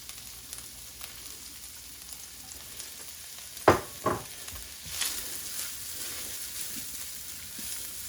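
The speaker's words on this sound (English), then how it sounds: "now that's hot, we're going to add the 4 shallots that we chopped up" Chopped shallots hit a hot pan for a beef burgundy, giving a sharp clatter and sizzle that eases into a soft, steady frying hiss, close but fairly quiet, with no talking.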